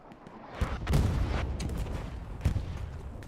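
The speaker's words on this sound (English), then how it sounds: "As there was a giant explosion, I believe that is a satchel that took out everybody in the church" A large satchel charge explosion in the World War II shooter Hell Let Loose rumbles heavily through a church, a deep boom with a rolling tail and a second thud amid distant competitive-match gunfire, with no talk.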